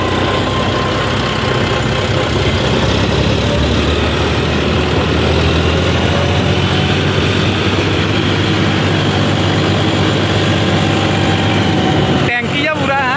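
A heavy American 4x4 tractor engine drones steadily during a top-speed test drive, a loud, continuous low rumble with rattling and wind noise, while someone talks over it.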